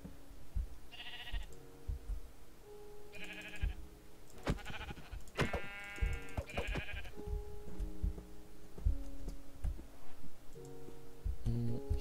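Several Minecraft sheep bleat in short wavering calls, spaced a few seconds apart, over soft game background music with faint ticking, no talking.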